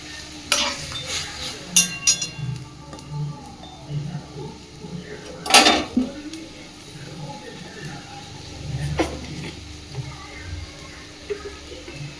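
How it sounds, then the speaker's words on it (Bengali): A pan of Bengali bhangan fish curry in mustard-paste water is stirred and mixed, with intermittent scraping and clinking of a spoon against the pan over a low sizzle, plus a few sharper knocks. "সব কিছুকে নাড়াচাড়া করে ভালোভাবে মিশিয়ে দিচ্ছে।"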